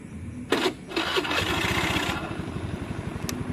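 Motorcycle engine cranked with the electric starter, a couple of short whirring bursts before catching and settling into a fast, steady, close idle with rhythmic popping pulses.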